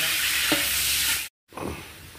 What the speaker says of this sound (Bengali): উচ্ছে, বেগুন, বরবটি, এগুলো আলাদা আলাদা একটা একটা করে সব ভেজে নিতে হবে।